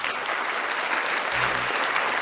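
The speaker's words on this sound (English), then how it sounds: "Round of applause." Audience applause at a live show, a dense continuous wash of clapping at steady loudness throughout, with no voices over it.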